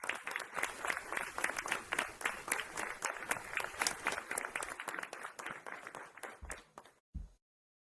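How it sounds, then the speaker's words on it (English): At a school board meeting, a room claps for an honored student, a brisk crowd of hands with distinct crisp claps, fading out quickly before abrupt silence. "Let's give her a round of applause"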